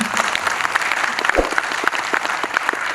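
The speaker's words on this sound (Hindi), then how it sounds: "तालियां तो बजती है ना" Audience applause at a Hindi-language cooperative movement gathering, steady broadband clapping from a crowd throughout, with one louder thump near the middle.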